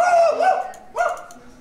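A person imitates a dog barking, voicing two drawn-out, whining bark sounds up close, loud and alone.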